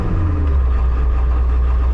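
A 1995 Ford F350 crew cab's 7.3L diesel engine drones steadily at low speed in first gear, a loud, close, continuous rumble heard from inside the truck.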